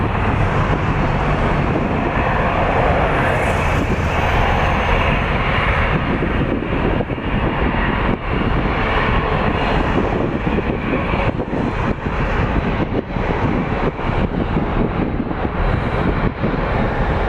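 A heavy Air Canada jet lines up on the runway at Toronto Pearson, its engines a steady, loud, broad roar that holds unbroken throughout, with wind buffeting the microphone.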